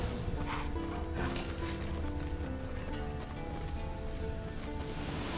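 Horse hooves clip-clop in The Witcher 3 video game, a steady plodding gait buried under dense, continuous game music and ambience.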